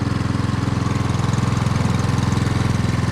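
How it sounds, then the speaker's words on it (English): Homemade outboard engine running on the water while struggling under load, a close, loud and rapid pulsing putter with a steady rhythmic chug throughout. "the engine is struggling a lot more"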